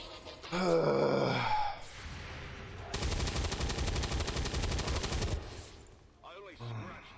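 Automatic cannon gunfire in the XCOM 2 Long War of the Chosen mod, a dense sustained burst lasting a couple of seconds in the middle, flanked by game voice groans and effects.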